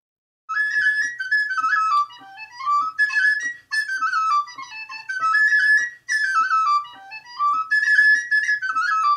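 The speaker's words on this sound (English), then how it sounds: "Tin whistle." Tin whistle played as a solo melody, bright and clear, with short phrases of rising and falling notes separated by brief breaths, close to the microphone and loud, with no voices.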